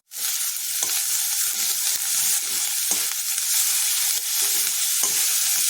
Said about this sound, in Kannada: ಇದನ್ನು ಚೆನ್ನಾಗಿ ಫ್ರೈ ಆಗಕ್ಕೆ ಬಿಡೋಣ